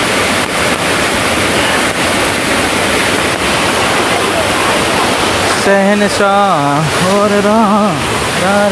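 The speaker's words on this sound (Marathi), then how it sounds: "तर एक प्रकारचा धबधबा आहे बघा" A waterfall on a flooded Konkan river gives a loud, steady roar of rushing water throughout, and people begin talking over it in the second half.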